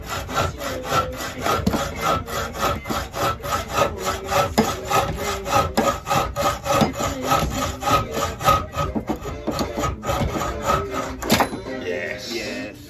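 A saw cuts a metal ring off an M10 bolt, steady rapid back-and-forth rasping strokes, close and loud, continuing without talk.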